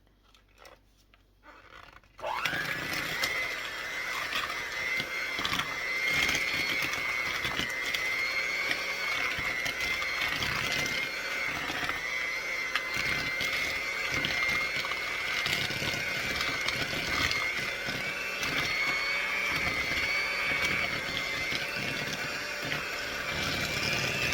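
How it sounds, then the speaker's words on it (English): After a quiet moment, an electric mixer starts up and whirs steadily, creaming sugar with cream cheese in a bowl for carrot cake bars; a continuous motor whine with faint beater rattle runs close and even for over twenty seconds. "we're going to cream together the 1/4 cup of sugar and the 4 ounces of cream cheese."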